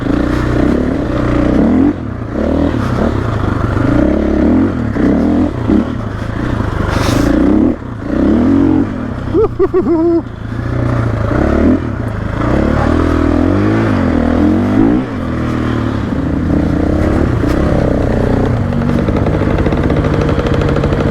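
A KTM 500 EXC-F 2024 enduro motorcycle rides at low speed in first and second gear on an enduro trail. The close engine drone stays steady throughout, rising and falling with the throttle and joined by occasional clattering.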